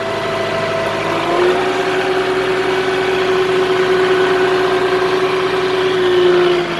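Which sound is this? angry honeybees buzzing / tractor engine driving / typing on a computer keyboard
tractor engine driving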